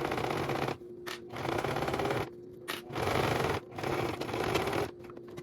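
Sewing machine stitching fabric panels of a small zippered pouch, running in several bursts of rapid mechanical stitching separated by short pauses, close and clear with no talking.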